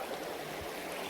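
A small creek rushes steadily in the rain near a footbridge, a faint, even wash of flowing water with no talk.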